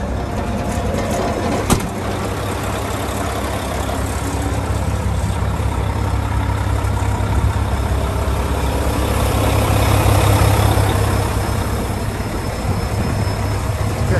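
2012 Volvo VNL64T630 semi truck with a D13 diesel engine idling, a steady low rumbling drone heard up close for the whole stretch, with one brief knock early on and no talk.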